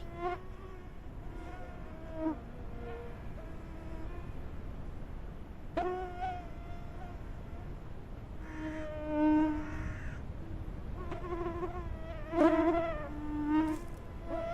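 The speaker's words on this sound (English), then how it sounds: "Get out of my ears, mosquitoes." Mosquitoes whine close around the ears in a hunting video game, a thin buzzing that rises and fades in several passes over a quiet outdoor background with occasional bird calls.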